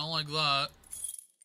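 Keys are picked up in the video game OutRUN, giving a brief, light metallic jangle right after someone speaks a few words, close and fairly soft.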